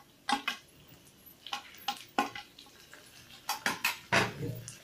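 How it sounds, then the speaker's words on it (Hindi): Finely chopped tomatoes tip into a pan of golden-brown frying onions for dal tadka, a run of sharp metallic scrapes and clinks from a spoon against the pan, several distinct knocks spread across a few seconds with no voices. "अब हम इसमें डाल देंगे बारीक कटे हुए टमाटर"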